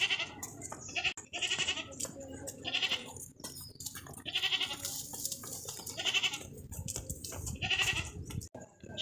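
A pure Makhi Cheeni goat, large and heavy, bleats repeatedly up close amid a noisy farm pen full of other goats, with overlapping cries over a steady rustle of background noise.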